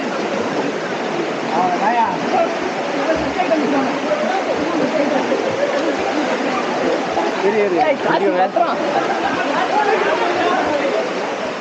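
Steady, broadband rush of Aare Falls near Nagalapuram, Andhra Pradesh, loud and continuous throughout, with people chattering faintly beneath it.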